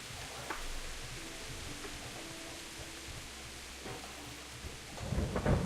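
Steady rain hisses with low rumbling thunder rolling beneath it in the game Kingdom Come: Deliverance, at moderate volume with no speech.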